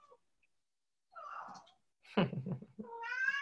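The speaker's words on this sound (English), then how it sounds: "And that's my cat in the background." A house cat meows and caterwauls in a quiet room, with short breathy sounds followed by a drawn-out, rising yowl near the end, fairly close and alone with no talking.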